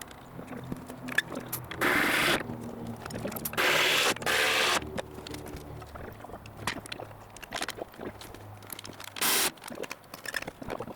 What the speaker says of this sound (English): so I'm going to thread this nut right now